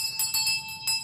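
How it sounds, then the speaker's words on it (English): Small room bell ringing as a radio drama sound effect, a bright metallic trill of rapid repeated strikes over about a second, clear and close with no speech. "The bell of the room you was working in, sir."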